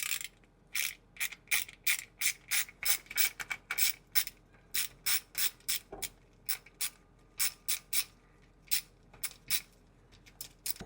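A Torx T20 bit loosens screws on the trim of a Tesla Model 3/Y. A steady run of quick, sharp ratcheting clicks comes in short bursts, close and clear, with no speech.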